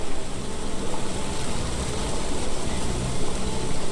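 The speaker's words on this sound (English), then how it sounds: "This dreary rain is making a miserable day even worse." Steady, dense rainfall in the Sherlock Holmes The Awakened video game, a continuous hiss that fills the whole stretch at an even level, with no voices or other clear sounds over it.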